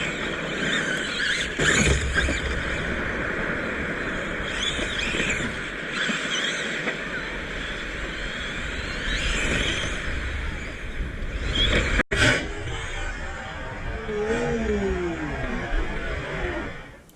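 A Tamiya Lunchbox RC monster truck, modded and waterproofed, whines steadily through a test drive, its motor noise swelling and dipping as it runs, with scrabbling and splashy texture over continuous broadband rumble and no talk.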